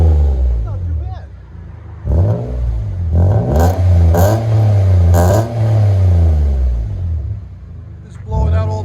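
A 1995 Nissan Cedric with a 3.0-litre VQ30 V6 and DTM aftermarket exhaust revs loudly close by in repeated rising and falling bursts. It idles briefly between pulls, with voices talking over the engine at times.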